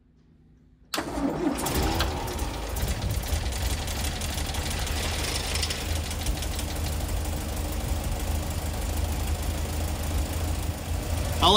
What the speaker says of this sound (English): I'll let the engine run for a bit.